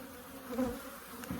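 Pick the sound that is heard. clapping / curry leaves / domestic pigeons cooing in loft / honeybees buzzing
honeybees buzzing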